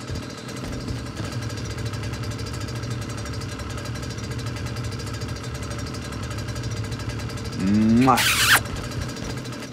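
A vehicle engine in a video game idles with a steady low drone beneath ongoing talk, then a sharp rising squeal cuts in briefly near the end.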